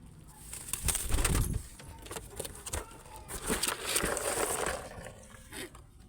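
A male Giribaz pigeon of the mukhi type coos softly in low, rolling phrases at close range, with faint wing rustles and patter around it.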